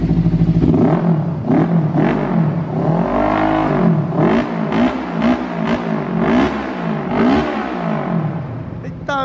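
Kawasaki Ninja 300 motorcycle fitted with an aftermarket exhaust, loud and close, engine revving in repeated rising and falling blips over a constant rumbling idle.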